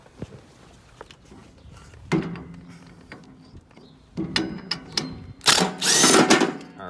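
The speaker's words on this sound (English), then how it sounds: "this is a 15 millimeter socket on my impact" Impact wrench with a 15 mm socket working a spindle bolt on a Snapper rear-engine riding mower deck, sounding in short close bursts that build to a loud sustained run near the end.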